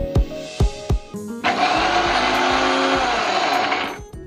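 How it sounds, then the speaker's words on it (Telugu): A kitchen mixer grinder is tapped a few times, then whirs loudly for about three seconds grinding hazelnuts for laddu before winding down, close and steady with no voices. "ఇంకా ఇప్పుడు ఇది మిక్సీ పట్టేసి ఒకసారి తర్వాత యాడ్ చేద్దాం"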